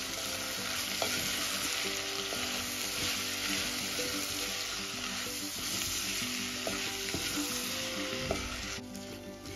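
Swaminarayan khichdi with salt and turmeric is stirred in a hot pan, giving a loud, dense sizzle that stays even throughout, with soft scrapes from the spoon and no talking.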